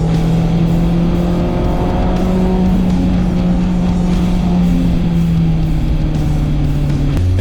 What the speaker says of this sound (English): this Turo rental actually has a Goodwin Racing Roadster Sport 4 exhaust installed on it